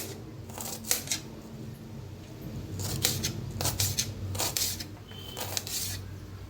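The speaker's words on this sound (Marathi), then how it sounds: "कांदा लांबकळ्या पद्धतीने कापून घ्यायचा" A knife slices onions lengthwise, making crisp, close cutting sounds in short clustered bursts, with quiet gaps between strokes.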